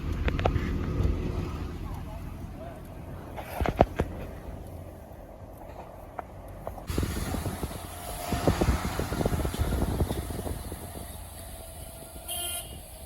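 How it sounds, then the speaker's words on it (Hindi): Steady road rumble and engine drone inside a moving car, with someone talking over it, a faint horn toot and a brief clatter partway through. "पापा जी ड्राइविंग कर रहे हैं"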